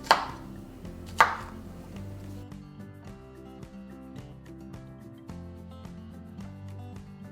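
A knife chops bell peppers into small squares on a cutting board for teriyaki chicken kebabs, giving two sharp strikes up front and then a steady run of quick, close, even chops with no talking.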